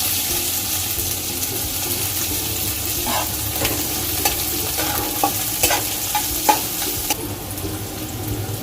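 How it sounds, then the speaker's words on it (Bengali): Onions with whole spices and nuts fry in oil for shahi chicken korma, a loud close sizzle broken by a series of sharp spoon scrapes and clacks as the pan is stirred. "নেড়ে চেড়ে একটু লাল করে নেব"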